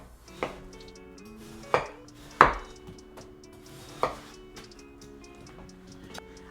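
A knife cuts a watermelon into chunks on a board, with several distinct sharp chops at uneven intervals, close and clear, with quiet gaps between them and no talking.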